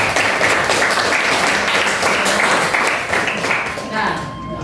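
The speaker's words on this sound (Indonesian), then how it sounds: "Kita berikan tepuk tangan untuk kita semua." A classroom of students applauding after a group discussion, sustained clapping that fills the room at full strength and tapers slightly at the end, with voices mixed in underneath.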